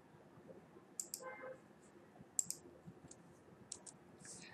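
Computer mouse clicks while selecting files, a few sharp, quiet clicks spaced irregularly over faint background hiss.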